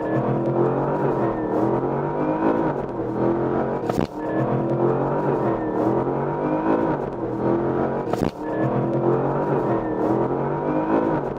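Porsche Panamera Turbo S E-Hybrid, a 700-horsepower plug-in hybrid, accelerating hard to 100 km/h: a loud, continuous engine roar climbing in pitch, broken by two brief gear-shift dips, heard from inside the car.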